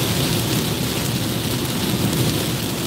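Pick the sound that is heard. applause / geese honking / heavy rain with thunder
heavy rain with thunder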